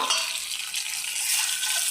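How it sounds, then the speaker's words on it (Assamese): Eggs fry in hot oil in a pan while making egg curry, a steady close crackling sizzle without any talk. "এতিয়া তেল গৰম হৈ গ'ল ইয়াত মই ডিমকেইটা দি দিম"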